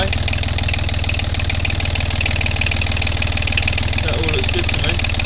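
A Yanmar 3YM30 marine diesel on a sailing boat idles steadily, with a loud low rhythmic chug and constant mechanical rattle close by for the whole stretch.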